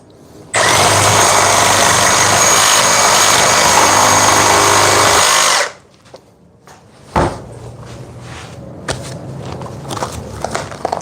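Battery reciprocating saw, among models such as a DeWalt 60 Volt, Milwaukee Super Sawzall and FLEX 24 volt, making one loud, steady cut of about five seconds, then stopping into quieter handling clatter and knocks.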